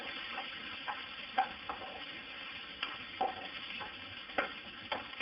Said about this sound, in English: Now the onion is getting fried, so we have to fry for maybe 5 minutes.